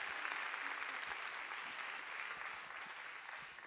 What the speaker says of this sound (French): Je propose que les battants qui sont dans la salle applaudissent le battant.